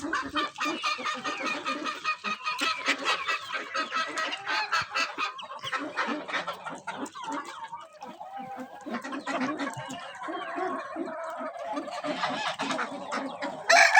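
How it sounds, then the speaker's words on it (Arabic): Chickens cluck and call continuously, with a loud rooster crow rising among the busy poultry chatter, fairly close by, after rain. "عندنا هذا الديك ديك"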